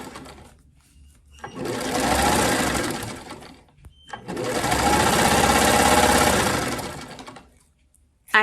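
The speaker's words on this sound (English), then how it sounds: "the machine that I primarily sew at is a Pfaff. It's a Grand Quilter." A Pfaff Grand Quilter sewing machine runs in two sustained bursts of fast, whirring stitching, each ramping up and winding down with a short pause between, close and fairly loud.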